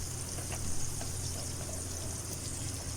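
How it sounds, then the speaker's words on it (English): Boiled rice tipped all at once into a pan of garlic butter, giving a steady pouring, trickling rush that lasts throughout with no talk. "And I'm going to add in my rice all at once."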